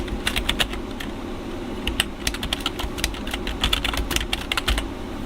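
Rapid, steady clatter of keys on a computer keyboard during a podcast, with bursts of quick clicks and short pauses over a soft constant hum.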